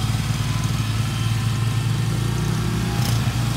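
Quad bike engines run steadily nearby on a pig farm, a continuous mid-pitched motor drone with a slight buzz, like idling or moving slowly.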